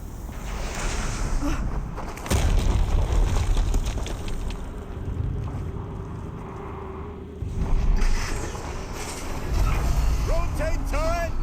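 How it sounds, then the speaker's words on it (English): Explosions in the video game Horizon Zero Dawn Remastered, during the Maker's End mission, with a sharp booming burst early and a second heavy blast later, over rumbling game noise and a voice speaking. "Another explosion."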